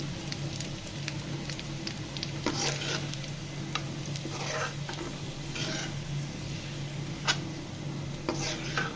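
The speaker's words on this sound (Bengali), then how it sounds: "আমি পেঁয়াজটাকে ভেজে উঠিয়ে নিয়েছি" Onions fry in oil and are stirred, making a constant close sizzle with scattered scraping and clinking of a spoon against the pan and no voices.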